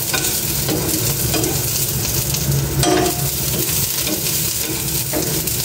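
Garlic and onion sautéing in a pan for sopas, a steady close sizzle with repeated scraping stirs of a utensil running throughout, no talk.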